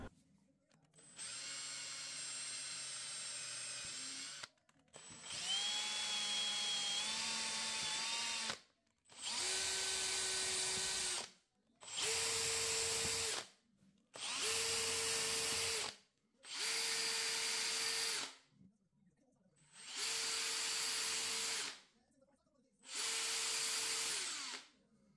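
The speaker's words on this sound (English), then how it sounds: "just needed to drill some holes for the screws." A power drill bores screw holes in a wooden shelf, running in eight separate bursts of a few seconds each with short pauses between, close and clear with no talking.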